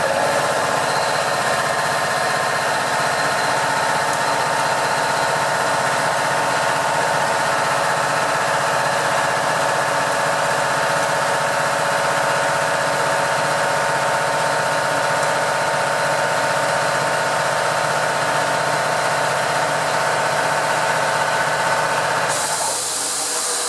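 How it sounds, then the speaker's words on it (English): Air compressor running steadily in a workshop, a constant loud mechanical drone with a high whine that holds unchanged for over twenty seconds before shifting slightly at the end, no talk. "Sorry about the compressor."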